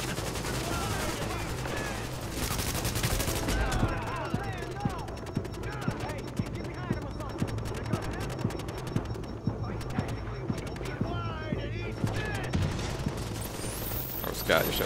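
Rapid bursts of automatic gunfire and scattered shots in the shooter game Tom Clancy's The Division, continuous and dense over a steady background din, with voices talking throughout.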